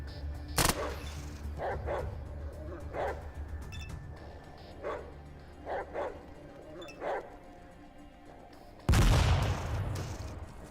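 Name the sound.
rats attacking in the video game ATOM RPG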